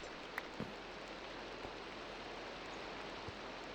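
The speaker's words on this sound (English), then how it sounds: "Oh boy, is this rain gonna stop?" Steady rain falls in the Minecraft video game, a faint even hiss of downpour that continues unbroken with a few soft drop ticks and no speech over it.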